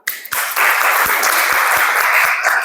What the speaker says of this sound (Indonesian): Beri aplaus lagi untuk kalian semua.